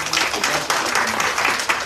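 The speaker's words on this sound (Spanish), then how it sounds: "Un aplauso para la hermana y su grupo, por favor." Applause for a sister and her group at a prayer group retreat, a dense continuous clapping from a crowd, fairly loud and steady throughout.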